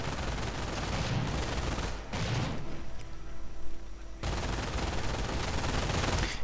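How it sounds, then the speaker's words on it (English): MG42 machine gun firing in a World War II strategy video game, dense rapid bursts of gunfire with a short pause mid-way, loud and continuous amid battle noise. "MG42 suppressing the Brits down there."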